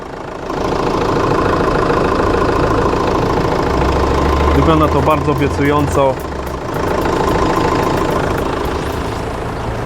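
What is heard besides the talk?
Renault Scenic 1.9 dCi diesel engine idling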